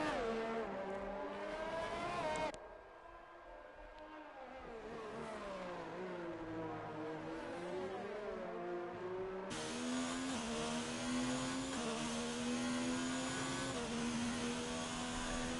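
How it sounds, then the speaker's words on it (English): Formula 1 race car engines in a racing game at the Canadian Grand Prix: high-pitched engine whine rising and falling with gear shifts, sustained and loud, with a shift in tone partway through. "And Sweet Crown 19 now overtaking Lewis Hamilton"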